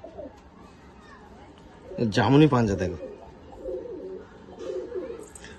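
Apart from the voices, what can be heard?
pigeons cooing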